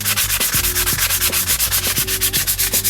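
Car paint is sanded by hand with a Scotch Brite pad in fast, even back-and-forth rubbing strokes, close and loud, with a steady pulsing rhythm under background music.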